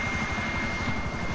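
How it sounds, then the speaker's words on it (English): A helicopter in GTA 5 flies close by with a steady, loud rotor thrum and rapid chopping pulses that hold through the whole short stretch. "helicopter"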